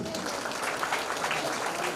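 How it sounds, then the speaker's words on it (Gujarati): Audience applause at a police camp farewell ceremony honouring retiring officers, a steady dense patter of clapping filling the whole stretch with faint voices mixed in. "તેમને તાળીઓથી વધાવી લઈએ."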